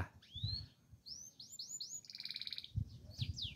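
Several birds chirp nearby in quick, bright upward-sweeping calls, one trilling rapidly, with soft low thumps in a quiet setting.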